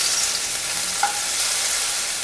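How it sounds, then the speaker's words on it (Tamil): Garlic and cumin frying in oil for drumstick thokku, a loud, steady hiss of sizzling close by with one faint clink partway through. "பூண்டு நல்லா வதங்கிடுச்சு."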